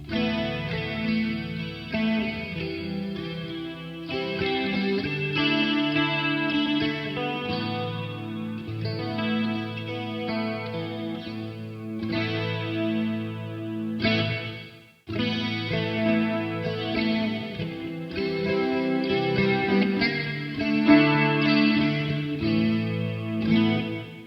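Clean electric guitar chords and picked notes shimmer through a chorus-like effect from a Grote GT 150 effects unit, playing continuously with a brief pause midway.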